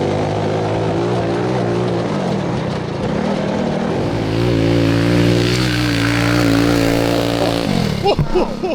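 A small go-kart engine revs hard and accelerates, a loud continuous buzzing drone that climbs in pitch, with people shouting over it toward the end.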